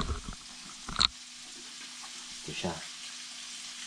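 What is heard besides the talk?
garlic frying in a pan, shrimp dish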